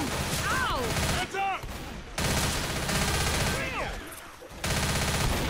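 Rapid bursts of gunfire from the Left 4 Dead video game, loud and dense, with short breaks between volleys while players talk and shout over the shooting.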